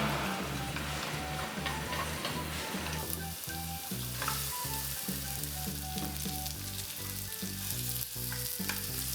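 Garlic and sliced onion sizzle in a tablespoon of cooking oil in a frying pan, a steady bright crackle near and loud that runs throughout, with stirring scrapes and soft background music under it.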